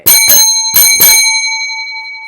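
Four bright metallic notification bell dings in quick succession, two pairs, loud and close, with the last ring fading out slowly.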